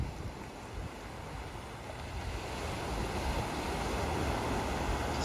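Steady wash of water lapping and rolling on a red sand beach in the Marquesas Islands, with wind rushing across the microphone throughout.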